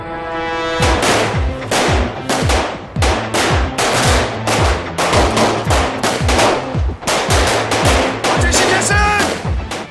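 Rapid bursts of automatic gunfire crackle through a TV drama shootout, loud and close, with repeated sharp shots in clustered volleys and brief gaps between them.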